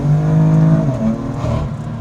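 BMW M4 CS engine pulling hard in second gear, heard through an open window: a loud, continuous rising engine note with strong low harmonics that holds throughout, with no talking.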